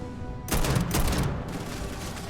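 Sustained burst of automatic gunfire in the sci-fi video game Starfield, loud and close, rattling continuously for about two seconds with a brief gap, heard alone without talk.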